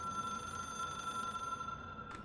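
A telephone in the video game Control rings with a steady electronic trill, a constant high tone that runs through the whole clip and ends with a brief burst at the close.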